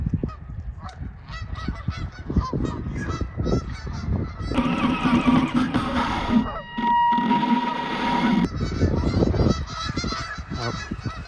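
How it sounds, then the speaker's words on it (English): A large flock of geese honks loudly and continuously, many overlapping calls close by, with a denser burst of honking midway. "Just an insane amount of geese."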